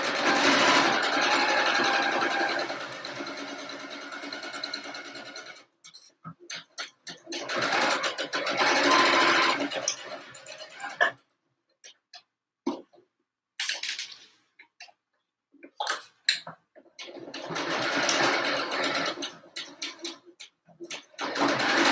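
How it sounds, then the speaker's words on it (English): A sewing machine stitches across the top of a homemade fabric mask in several loud runs of fast whirring, separated by pauses with scattered clicks and handling noises. "So then we're just gonna sew the across the top."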